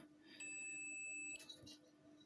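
A multimeter's steady high-pitched continuity beep sounds for about a second while testing failed, shorted transistors in a Luxpower SNA5000 inverter, then stops, followed by faint clicks in a quiet room.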